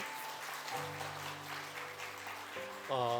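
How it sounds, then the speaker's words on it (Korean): A church congregation applauds new members at a Sunday morning worship service, a steady soft wash of clapping beneath sustained organ or keyboard chords that swell louder near the end. "우리 박수로 축하하겠습니다"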